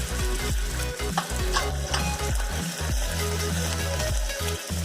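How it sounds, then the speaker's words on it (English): Ginger garlic paste fries in a hot pan while a utensil stirs it, giving a steady loud sizzle with scraping strokes throughout, alone with no talk. "Now I'll add ginger garlic paste"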